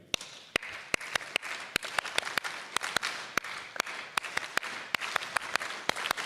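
A high school Achievement Day audience claps together in a rhythmic pattern: sharp, distinct claps in an uneven repeating rhythm, fairly close, over a soft bed of crowd noise.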